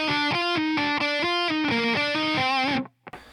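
Distorted electric guitar riff from a song, a loud, chugging run of palm-muted and ringing notes played alone with no voice, stopping abruptly near the end.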